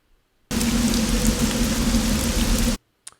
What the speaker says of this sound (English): It's a rain loop.